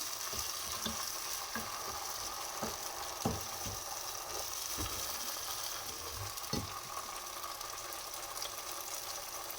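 Cauliflower and grated carrot fry in a pan with a steady soft sizzle, broken by repeated scraping and tapping clicks as a utensil stirs and turns the vegetables.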